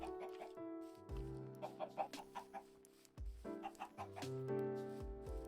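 Chickens cluck in Minecraft, with several short, quiet clucks over sustained musical tones in the background.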